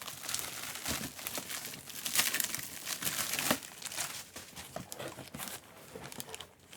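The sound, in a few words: gift wrapping paper being unwrapped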